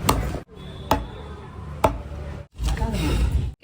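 Sharp chopping thuds land irregularly, three or four distinct blows cutting country chicken on a board amid kitchen background noise.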